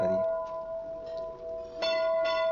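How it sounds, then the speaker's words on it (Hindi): Temple bells ring at the Patal Bhuvaneshwar cave temple in Uttarakhand: a metallic strike at the start, then two more clear clangs near the end, each leaving a long sustained ring. "ये देखो बेल मैंने ही बजाया"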